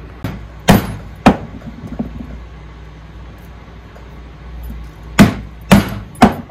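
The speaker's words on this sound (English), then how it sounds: "we're going to punch the holes now after skiving the ends" Hammer blows drive a metal punch through a skived leather strap for a crossbody bag, in two clusters of three sharp, loud strikes separated by a few seconds of quiet room tone.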